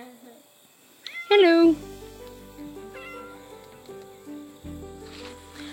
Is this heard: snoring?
no